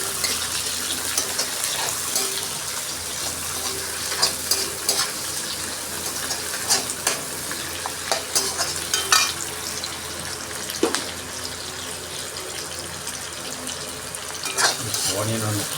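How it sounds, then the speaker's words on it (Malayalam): Garlic and onion fry in oil in a pan for a vegetable dragon dish, giving a continuous sizzle broken by frequent stirring clatter, with running water in the background throughout. "അപ്പോൾ ഗാർലിക് ഫ്രൈ ആകുമ്പോൾ അത് കഴിഞ്ഞിട്ട് നമുക്ക് ഓണിയൻ ഇടാം."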